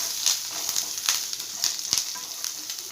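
Chana dal frying in oil for semiya upma while being stirred, a bright, steady sizzle punctuated by regular spatula scrapes, close and fairly loud, no speech.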